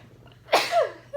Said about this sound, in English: Sorry, I'm about to sneeze.